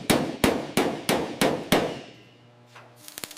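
A hammer pounds the car body metal of an abandoned 1960 Lincoln Continental under restoration: six loud, evenly spaced ringing blows, then a pause before a few lighter taps.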